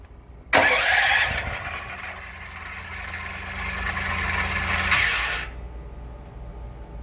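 A Duromax 13000EH propane-fuelled backup generator in an enclosure starts with a sudden cranking burst, then settles into a loud, steady engine roar for several seconds before the sound drops away to a lower rumble.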